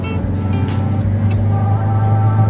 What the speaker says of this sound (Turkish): Araç şu anda kendi kendine bize hiçbir tepki vermeden hızlanıyor.